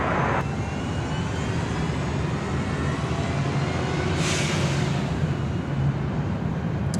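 A steady, distant roar from an Airbus A330neo airliner at LAX, heard from afar as a broad, even rumble with a faint hiss.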